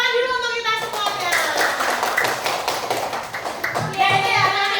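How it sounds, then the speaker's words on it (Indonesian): Second-grade children in a math classroom clap their hands in a dense, lively burst that starts under a voice and fades as adult speech resumes near the end. "Tepuk tangan dulu untuk kita semuanya."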